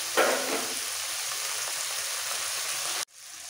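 Water poured onto onions frying in a pan bursts into a loud, steady, close hiss and sizzle that holds evenly, then cuts off abruptly before a quieter sizzle resumes.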